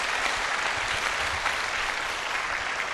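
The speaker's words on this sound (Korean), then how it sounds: "let's give a glorious round of applause to our Lord." A church congregation at a Philippine gathering claps together in a dense, sustained round of applause that carries evenly throughout at a steady loud level.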